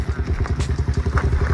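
A sports motorcycle rides off-road, its engine close and loud with a quick, pulsing exhaust beat and some rattling.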